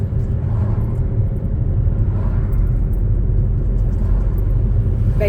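Steady low engine rumble of a manual car driving along in third gear after a gear change, continuous and fairly loud from inside the cabin, with no talking.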